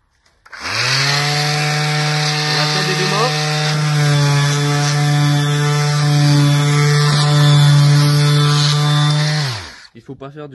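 French orbital sander, a vibrating sander, runs against a workpiece for about nine seconds, a loud close buzzing whine with steady hum that starts abruptly and winds down at the end.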